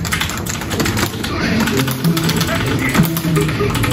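Computer keyboard keys clack rapidly and unevenly as someone plays the fighting game Tekken on a keyboard, loud and close, with voices talking over the busy tapping.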